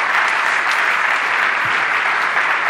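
An audience at a French-language church singles' conference applauds to welcome visiting ministers, with steady, dense clapping that stays loud and even throughout with no talking over it.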